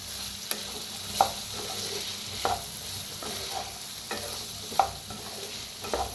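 Bitter gourd cooks in a pan with a steady soft sizzle under a spatula that stirs it at a slow, even pace, scraping the pan several times. The sound is close and no one speaks.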